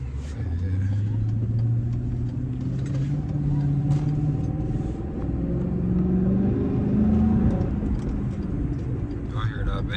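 A Chrysler 300C engine rumbling and revving up and down in long rising swells, loud and close, with someone talking over it.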